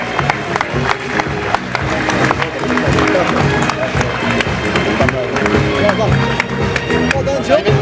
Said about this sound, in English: Ladies and gentlemen, please give him a massive round of applause.